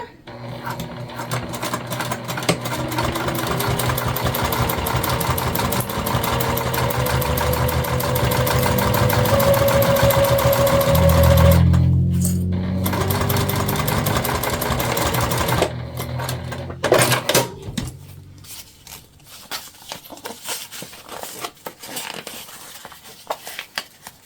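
A sewing machine stitches a fabric panel onto a small hip bag, running in a long, steady, close whir, then stopping into short bursts and quieter handling noises.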